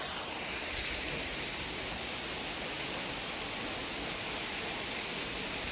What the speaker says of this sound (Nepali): झरना पनि रहेछ यहाँनिर